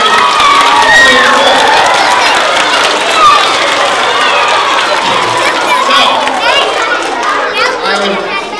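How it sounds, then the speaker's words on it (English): Crowd of children at a school fire safety assembly cheering and shouting loudly and steadily, a busy wash of young voices that fills the whole stretch. "How about a nice round of applause for Luke?"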